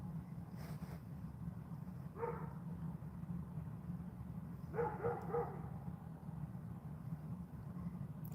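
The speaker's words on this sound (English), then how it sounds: "Hearing the dogs barking." Dogs bark in two short bursts of several yips each, somewhat distant, over a constant low rumble of traffic or an engine in the background.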